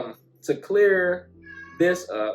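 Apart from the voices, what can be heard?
cat meowing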